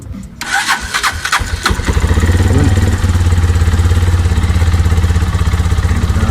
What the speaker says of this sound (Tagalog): So paandarin na natin, try natin paandarin kung gagana ba talaga.